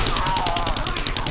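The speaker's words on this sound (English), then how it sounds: "every time I use the SMG on Horde Night, this is what happens" Rapid submachine gun fire from 7 Days to Die on Horde Night, glitching into a fast, even, continuous burst of shots, loud and close with no speech over it.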